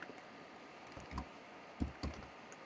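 Keys tapped on a computer keyboard while a file name is typed, a few soft, scattered clicks in a short, quiet burst with no talking.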